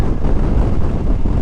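Strong wind buffeting the microphone during a motorcycle ride, a loud continuous low rumbling roar with constant gusty fluctuation.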